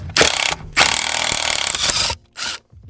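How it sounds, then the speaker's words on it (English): A Draper Stormforce 1/2 inch impact wrench removes Loctited seat bolts from a Mondeo ST, firing in three loud, close bursts of rapid hammering separated by short pauses. "This is the Draper Stormforce 1/2 inch impact"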